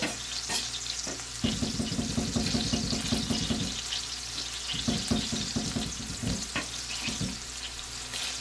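Garlic frying in butter in a pan gives a close, bubbling sizzle broken by rapid rhythmic tapping and scraping bursts, the crackle rising and falling in short clusters.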